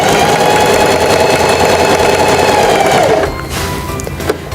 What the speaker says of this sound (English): Place the fabric underneath the presser foot, lower the presser foot, and begin sewing.